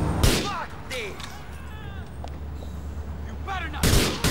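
Shotgun blasts in the video game GTA IV, a couple of loud sharp reports at the start and end with quieter game sounds and voices between them.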